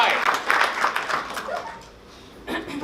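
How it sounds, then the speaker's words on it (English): Audience clapping at a live improv comedy show at an anime and gaming convention, a short burst of applause that fades out, then a brief flurry returns near the end. "Give her a big round of applause."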